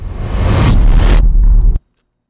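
A weird, creepy abstract sound-effect hit for motion design: a loud, dense, noisy rumbling swell that briefly brightens, dips and surges again before cutting off abruptly into silence, with no voices.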